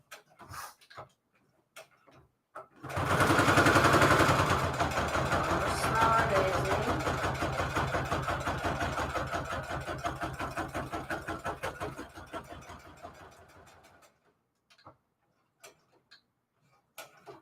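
A sewing machine stitching a single-signature Christmas junk journal: a steady, fast mechanical whirring with an even ticking rhythm, close and fairly loud, running for about eleven seconds between quieter clicks and handling noise.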